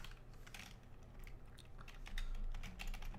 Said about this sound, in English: if I could type sudo apt install